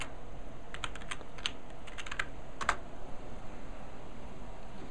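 Rapid keystrokes on a laptop keyboard as a password is typed, several light close clicks in short uneven bursts over a quiet background hum.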